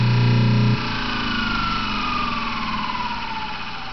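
A Delco Remy Frigidaire repulsion start motor is switched off: its steady hum cuts out abruptly, then falling tones glide slowly downward as the rotor spins down, fairly quiet and alone.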